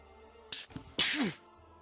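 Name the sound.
sneeze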